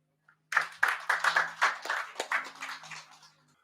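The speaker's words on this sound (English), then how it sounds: "can I get another round of applause for the Nexim board?" An audience at a healthcare consultancy's branch opening in Hamilton breaks into a burst of hand clapping that starts suddenly and runs steadily for about three seconds, moderately loud and without talk over it.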